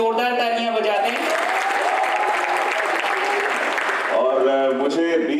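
A theater audience claps loudly and steadily for about four seconds, dense sustained applause that overlaps with a speaker's voice at the start and end.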